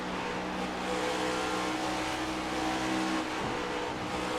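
An iRacing stock car lapping Darlington, its engine holding a steady loud drone before a gear shift near the end briefly breaks and resets the pitch, with no voices.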